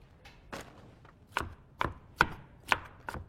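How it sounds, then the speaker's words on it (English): A knife rough-chops drained canned vegetables on a board: about seven sharp, close chops in an uneven rhythm, with short pauses between them and no other sound. "I like to give them just a quick rough chop."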